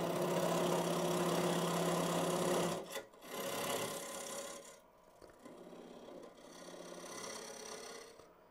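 A lathe scraper cuts into a spinning segmented wooden box, a steady whirring rasp that breaks off, resumes briefly and then continues as a fainter, intermittent scraping hum.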